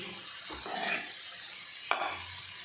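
Roasted eggplant scraped and stirred into fried whole spices in a pan, with a soft sizzle, a couple of distinct stirring strokes and a sharp clink of the spoon against the pan, no voice.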